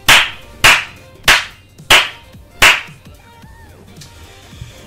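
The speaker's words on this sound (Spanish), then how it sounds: "¡Un aplauso!" Five loud, sharp hand claps in an even rhythm, each about two-thirds of a second apart, close and alone, followed by quieter background sound.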